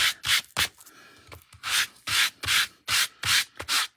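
Fine sandpaper rubs across embossed two-tone cardstock in quick back-and-forth strokes, about eight crisp scratchy passes up close, each separated by brief pauses.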